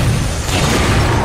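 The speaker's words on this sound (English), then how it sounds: "Oh, incineration cannon." An incineration cannon blast in Halo 4 multiplayer: a loud, dense, rumbling roar fills the whole brief moment with no voices.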